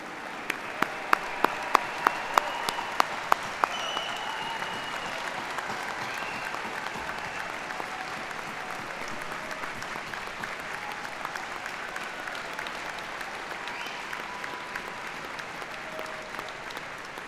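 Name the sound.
audience applauding the 2018 Ellis Island medalists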